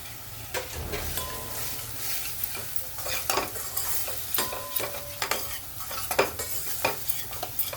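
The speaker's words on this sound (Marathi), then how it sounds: "याला पण चांगलं असं परतून घेऊ तेल सुटेपर्यंत" Masala with red chili powder and turmeric sautés in oil in a pan for mixed dal, a continuous sizzle broken by repeated scraping strokes of a spoon stirring against the metal, close and steady, no talking.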